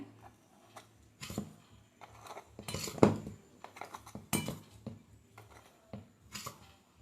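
Homemade rice-husk charcoal tooth powder is spooned into a small jar with scattered light clinks, taps and scrapes of utensil on container, close and quiet, no talk.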